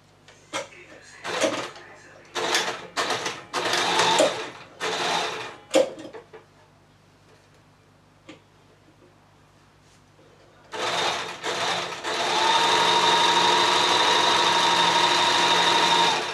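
A sewing machine stitches a tutu skirt, running in short bursts broken by pauses and then in one long steady whir at the end, close by, with a brief stretch of talk partway through.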